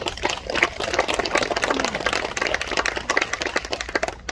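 Sustained audience applause at a memorial ceremony at the national cemetery, dense and steady throughout, a crowd clapping for a former lawmaker with no voices over it.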